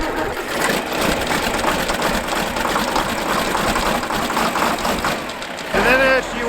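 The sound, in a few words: diesel tractor engine starting and idling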